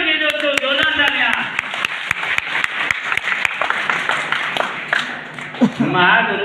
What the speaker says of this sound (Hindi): हम चाहेंगे कि सबसे ज्यादा महागुरु के लिए एक जोरदार तालियां होनी चाहिए दोस्तों, जोरदार तालियां